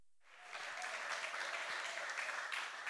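Audience clapping swells up quickly and holds as performers are welcomed back on stage, a dense, fairly distant wash of applause.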